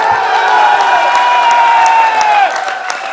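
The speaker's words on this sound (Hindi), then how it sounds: "इसके लिए तालियां बजाएं" A crowd at a PTI bar association convention in Gujranwala claps and cheers steadily for about three seconds. Sustained tonal chanting or horn-like notes run through the noise before it eases slightly near the end.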